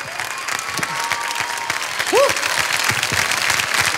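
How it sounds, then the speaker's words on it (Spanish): An audience at the Eurosingers 2013 song festival applauds steadily throughout, a dense wash of clapping with a few brief tonal squeaks and voices mixed in. "Les voy a pedir ahora mismo un aplauso para ustedes"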